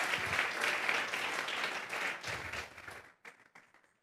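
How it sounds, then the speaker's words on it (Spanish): A congregation at a church youth service claps in sustained applause, loud at first, then thinning into a few scattered claps before fading out. "Vamos a regalarle ofrendas de palmas al Dios de la gloria."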